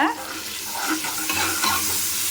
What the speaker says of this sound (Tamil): இஞ்சி பூண்டு பேஸ்ட் போட்டுட்டு நல்லா மிக்ஸ் பண்ணிகிட்டே இருங்க